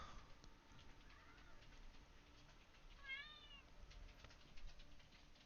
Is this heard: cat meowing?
yes